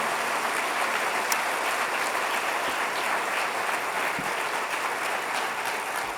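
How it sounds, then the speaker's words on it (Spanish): A church congregation gives steady, moderately loud applause, an even rain-like patter of many hands clapping that continues without a break for over six seconds. "Denle un aplauso al Señor."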